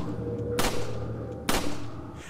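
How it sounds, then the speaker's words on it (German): Two gunshots in the Resident Evil 4 video game, each a sharp loud crack about a second apart over a low droning game soundtrack. "Alter, ich verschwende hier sinnlos Schüsse"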